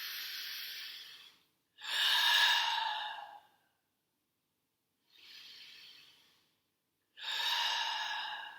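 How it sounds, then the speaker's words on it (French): Three deep, forceful breaths during a dynamic sophrology exercise, each a long, loud airy inhale or exhale with pauses of silence between, close to the microphone and with no talking. "on va pouvoir activer notre respiration un peu plus dynamique, 3 fois, amplement et profondément"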